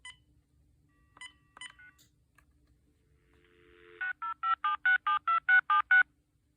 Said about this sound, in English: let's go ahead and dial using that new memory.